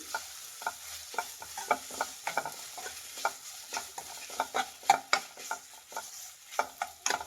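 Ginger garlic paste fries in a pan for a dhaba-style paneer masala gravy, with a steady soft sizzle under repeated scraping stirs, close and moderately loud, with no voices.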